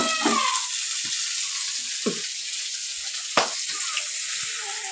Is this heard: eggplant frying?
yes